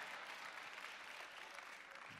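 Steady applause from an audience at a conference plenary session, a dense wash of many hands clapping continuously throughout, fairly loud and even, with no one speaking over it.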